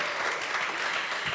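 Audience applause for the author at a book launch, a short burst of dense, fairly distant clapping with no talk over it.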